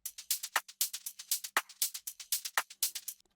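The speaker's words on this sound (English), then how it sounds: "It's just a loop that contains another shaker groove and a bit of detailed percussion." A percussion loop of crisp shaker strokes and detailed hand percussion ticks along in a quick, even groove, close and dry with no other instruments.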